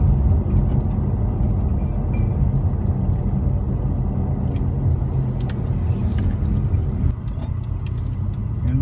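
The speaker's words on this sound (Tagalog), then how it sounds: "Sobrang traffic dito." Heavy road traffic on Quirino Highway in Novaliches: a continuous low rumble of engines and passing vehicles, close and loud, with a few brief higher clinks near the end.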